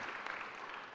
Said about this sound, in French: On applaudit les ministres ou pas?